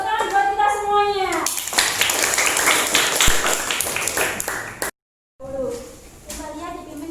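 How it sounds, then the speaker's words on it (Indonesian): A class of children claps hands in a dense burst of rapid, loud claps lasting several seconds, with children's voices before and after. "Tepuk tangan buat kita semuanya."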